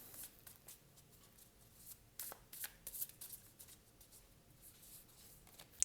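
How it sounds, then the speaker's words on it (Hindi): Tarot cards are shuffled and drawn by hand, soft riffling and light slapping of cards, quiet and close, with a few sharper flicks near the middle and end. "तो बहुत सारे आ गए कार्ड्स, मैं इंट्यूटिवली निकालूंगी।"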